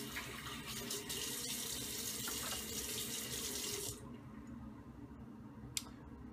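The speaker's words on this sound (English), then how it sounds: "Rinse off the alum." Running tap water rinses alum off a freshly shaved face after a Feather Artist Pro shavette shave, a steady broad splashing stream close by for about four seconds, then cutting off to quiet with a small knock.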